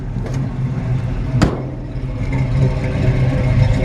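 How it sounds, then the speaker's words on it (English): A 1952 Chevrolet 3100 five-window pickup truck engine runs steadily at idle, still a little cold. It gives a low, continuous rumble nearby, with one brief sharp click partway through. "Gonna let you hear the engine before I turn it off."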